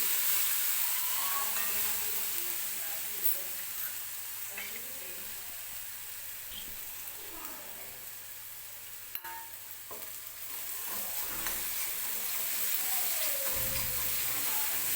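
Green chillies frying in hot oil give a steady sizzle with intermittent stirring scrapes, moderately close and continuous throughout, with occasional faint background sounds.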